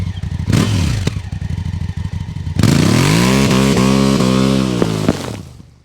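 A 2016 Honda CRF 1000 Africa Twin's engine chugs at idle, then revs and rises in pitch before settling, loud and close, with a few clunks and no talk.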